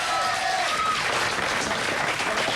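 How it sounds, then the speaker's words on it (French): An audience applauds as a composer walks onto a stage during a live radio show, producing dense, steady clapping throughout with a few brief tonal whistles or cheers at the start. "qu'on peut applaudir, qui va arriver sur scène"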